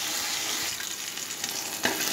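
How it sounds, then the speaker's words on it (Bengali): Vegetables stir-frying in a pan with salt, for a homemade chowmein-style dish, give a steady close sizzle with a few scraping stirs and a sharper clatter near the end. "সবজিটা যেই ভাজা ভাজা হয়ে এসছে"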